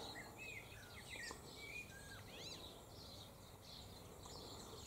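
Birds sing and chirp among flowering silky oak trees in early summer, with several short whistles and trills scattered over a steady, soft outdoor background.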